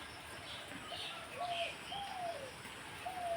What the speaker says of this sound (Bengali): আর সকালবেলা পাখিগুলোর শব্দ এত ভালো লাগে